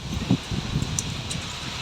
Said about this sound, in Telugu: మీకు నేను వాయిస్ చెప్తూ ఉండగానే గాలి సౌండ్ కూడా మీకు వినపడుతుంది